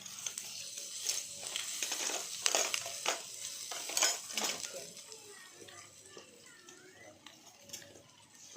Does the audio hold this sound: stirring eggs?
yes